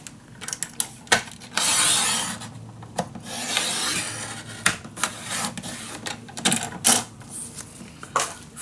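Paper pages being cut to size for a handmade magic box with a hinge at the bottom, heard as irregular rasping, scraping strokes in short bursts, close and fairly loud, with no talking.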